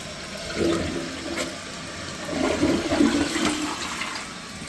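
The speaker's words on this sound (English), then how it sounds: "Just keep flushing the hell out of it, guys." A newly installed toilet flushes close by, with loud rushing, gurgling water that swells twice over several seconds and then settles into a steady refill hiss, with no talking.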